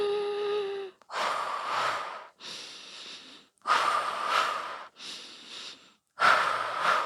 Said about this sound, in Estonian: Ehk siis tõmbad kopsu täis, kops tühjaks, kops täis, kops tühjaks.